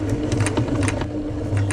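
A sewing machine runs continuously while stitching back over the original seam during a repair of a Panacea 2 tent, giving a fast, loud, close mechanical whirr with rapid needle pulses and no speech.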